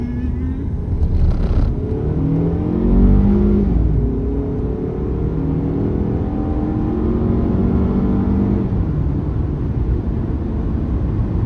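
A car pulls away and accelerates on a road trip, its engine pitch climbing in a sweep, dropping, and climbing again as it shifts, fairly loud and close, while people talk inside the cabin.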